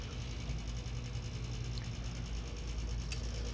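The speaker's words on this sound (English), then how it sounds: "it's just a flying crank ghost mechanism" A motorized flying crank ghost marionette for a haunted yard turns on its pulleys, giving a steady low mechanical whir with faint creaks and ratcheting clicks throughout, continuous and fairly quiet.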